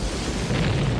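Military explosions play from a CD as a loud, deep boom with a rumbling burst that fills the short moment.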